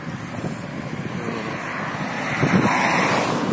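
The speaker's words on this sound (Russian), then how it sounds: "А вообще так прохладно, и ветер так холодный." Steady wind gusts roar against the microphone, a broad rushing noise that builds slightly louder toward the end, with no voices.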